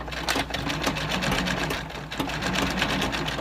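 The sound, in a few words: sewing machine stitching a fabric casing on a seed bag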